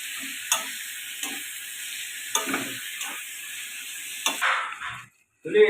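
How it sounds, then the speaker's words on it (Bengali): Meat sizzles in spices in a pan for chicken biryani, a continuous bright frying hiss broken by a few short stirring scrapes and taps, then a brief pause before the hiss returns. "মশলা ধোয়া জলটা মাংসটা ওর মধ্যে দিয়ে দিল মশলা কিন্তু খুব ভালো করে কষা হয়ে গেছে"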